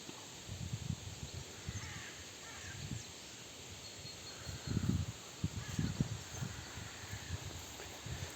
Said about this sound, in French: Ouais, un nid de corbeau.